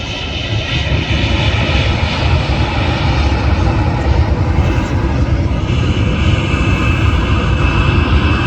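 Boeing 767-300 airliner at Manchester Airport, a loud, steady engine roar filling the whole stretch as the jet passes near the runway, with no clear talk.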